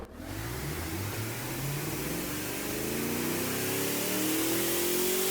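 A 6.5 liter dual overhead cam V8 with 40 valves and an 8,700 RPM limit revs in BeamNG, a loud sustained roar that climbs steadily in pitch as the engine winds up, alone with no voices.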